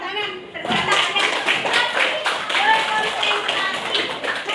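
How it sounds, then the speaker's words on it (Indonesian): A classroom of students claps together in a burst of brisk, overlapping hand claps that carries on steadily for several seconds, with voices mixed in underneath. "oke, tepuk tangan."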